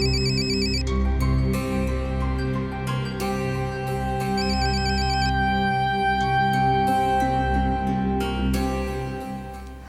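A phone ringtone plays continuously, a repeating electronic melody over a steady low hum, with no talking.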